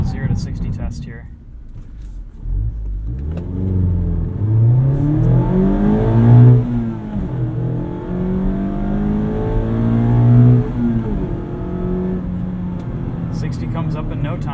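A 2019 Mazda MX-5 Miata RF Grand Touring accelerates hard from a standstill to 60, engine note climbing through several rising gear pulls with brief dips at each shift, heard loud and close from inside the cabin.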